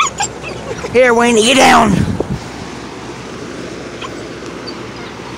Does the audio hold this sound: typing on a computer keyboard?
no